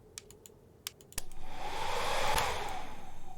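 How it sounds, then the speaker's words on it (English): Several sharp key clicks from the horror game Frosty Nights give way to a hair dryer switching on, a loud steady whooshing blow that holds to the end. "Right click for the hairdryer."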